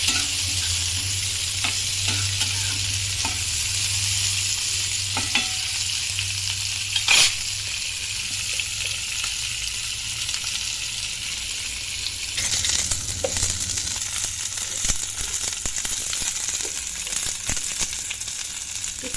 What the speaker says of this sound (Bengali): ঢেলে দিয়ে নাড়তে থাকবো।